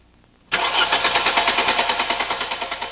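A car engine with Bosch KE-Jetronic fuel injection cranks suddenly after a quiet moment, the starter churning loud and close in a rapid, even rhythm that carries on to the end.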